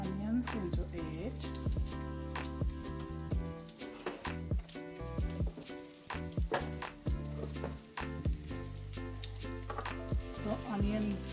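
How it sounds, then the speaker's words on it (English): Onions sizzle in a hot pan at the start of a shrimp stir-fry, a steady frying hiss with occasional stirring clatter, layered under a background of tonal music or hum. "So I'm just gonna be adding my onions into it."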